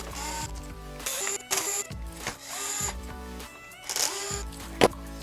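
Screws are backed out of the handle of a plastic toy bubble blower with a power tool, several close whirring bursts separated by pauses, ending in a sharp click.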